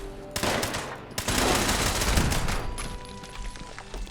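Automated turrets in the game Fallout 76 open fire in a research lab. Dense, loud rapid gunfire continues almost without a break, with sharp cracks layered over a rumbling wash, and no one speaks.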